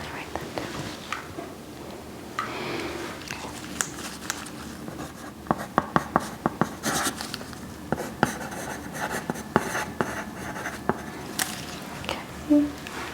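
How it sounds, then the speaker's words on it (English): Pen scratching out notes on paper during a close-up ASMR medical exam, soft continuous scribbling with small taps, faint whispering alongside. "Just gonna write that down."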